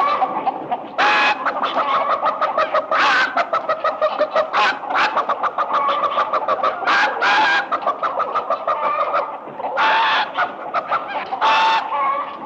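A voice imitates a chicken's clucking in rapid repeated bursts, with louder squawk-like cries scattered among steady clucks, close and loud throughout.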